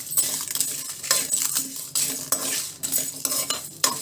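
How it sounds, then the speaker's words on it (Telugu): Kashmiri and byadgi chillies and spices dry-roasting in a pan are stirred with a metal spoon, giving repeated close clinks and scrapes in an uneven rhythm, with no talk. "ఇవన్నీ డ్రై రోస్ట్ చేసుకోవాలండి"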